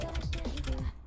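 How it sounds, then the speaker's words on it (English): Computer keyboard keys click in quick, uneven bursts while a player taps along in the rhythm game Fortnite Festival, close and fairly quiet, with faint music behind. "Also, I apologize if my clicking's a bit louder."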